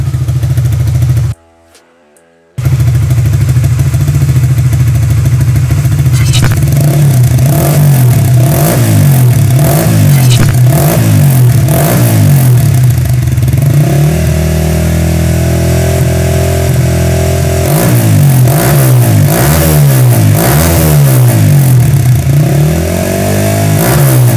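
A Supra GTR 150 motorcycle fitted with a Vyrus exhaust, loud and close, idles with a steady burble and then revs repeatedly in rising and falling bursts, after a brief dropout near the start.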